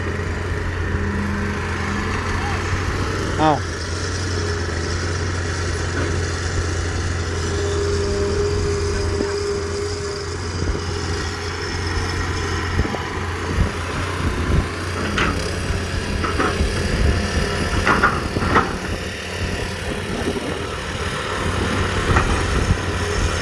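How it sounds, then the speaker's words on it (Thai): A small engine-driven water pump runs steadily beside a well excavation being deepened, a continuous droning hum with faint clanks and knocks over it, no voices. "ตอนนี้ต้องสูบน้ำออกก่อนเพราะว่าจะต้องขุดเพิ่มระดับ"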